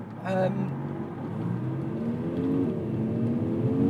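Audi R8 V10 Performance with its 620 PS V10 pulling hard, a rising engine drone climbing steadily in pitch from inside the car, with people talking over it.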